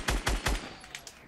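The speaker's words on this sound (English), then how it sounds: "He's shooting." Three quick, loud gunshots in a fast rhythm from the video game Fortnite, followed by a couple of fainter distant shots and no talking.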